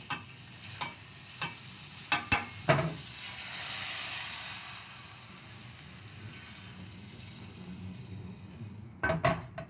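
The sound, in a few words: butter melting and sizzling in a hot pot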